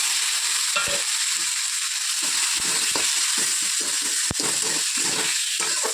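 Tomato and onion fry with salt in hot oil alongside green chilli, panch phoron and whole cinnamon, giving a constant close sizzle broken by quick scrapes and clicks of stirring.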